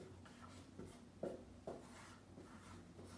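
A Chinese character written by hand, with faint, quiet scratching strokes and a few slightly firmer taps in a hushed room.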